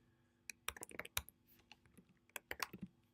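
Brief bursts of key clicks on a computer keyboard, quiet and close, typed in short irregular clusters with pauses between them.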